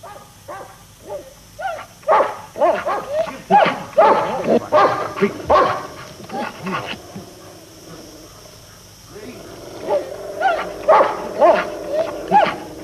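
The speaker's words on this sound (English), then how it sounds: "Wild dogs weren't part of the deal." Wild dogs barking in two bursts, a rapid series of yapping barks and yips with whimpers, moderately close, separated by a short lull.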